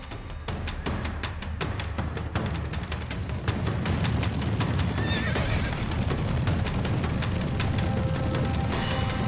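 Horses neigh and whinny while their hooves clip-clop in a rapid, continuous patter, close and fairly loud, with a faint mechanical ratcheting beneath.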